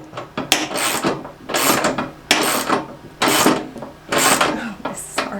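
A socket wrench ratchets while an ATV snow plow is assembled, five rasping clicking bursts of roughly a second each with short pauses between, close by.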